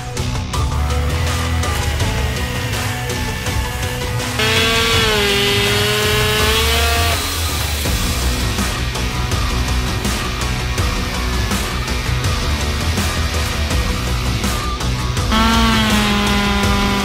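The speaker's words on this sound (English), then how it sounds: "I'm gonna take both chainsaws, I'm gonna work my way from the narrowest part of this tree all the way up to the thickest part." Two Stihl chainsaws, one gas and one electric, cutting through a tree. Loud, sustained motor whine runs throughout, with the pitch shifting as the blades bite into the wood from the narrow end toward the thick trunk.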